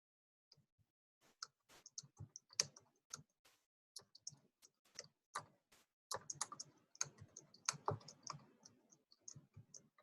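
Letters are typed on a computer keyboard in a quiet room, with crisp, close individual key clicks in an irregular rhythm, sparse at first and then coming in quicker bursts.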